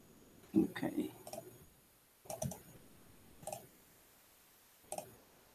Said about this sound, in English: I'm sorry, bro. I'm clicking.